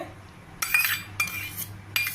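A metal spoon stirs curd into ground pesarattu batter of moong dal and jowar rava, scraping and clinking against the bowl in three bright bursts over a quiet background.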